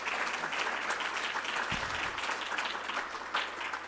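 Audience gives a steady, dense round of applause at a youth mental health event, heard from a moderate distance with an even, sustained wash of clapping throughout.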